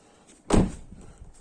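One heavy thud as a Tesla Model 3 tailgate slams shut nearby, with a short low rumble trailing off afterward.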